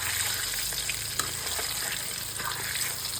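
Eggs fry in hot oil with a steady crackling sizzle, occasional soft pops and a faint low hum underneath.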